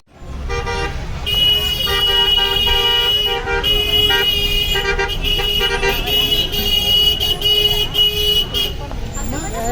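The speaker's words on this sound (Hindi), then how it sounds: "देख लो भाई ट्रैफिक ऐसा है" Busy road traffic on an Uttarakhand route near Kainchi Dham, with loud, sustained car horns blaring and overlapping close by over engine rumble, and voices mixed in.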